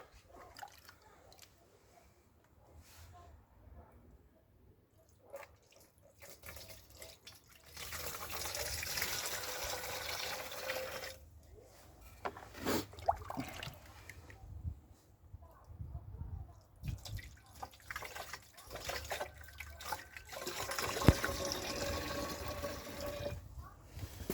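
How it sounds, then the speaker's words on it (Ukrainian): Bordeaux mixture for garden spraying pours from a ladle in several spells of trickling and splashing, quiet pauses between, with occasional clinks and faint talk nearby. "Ось наливай таким ковшиком так потихеньку"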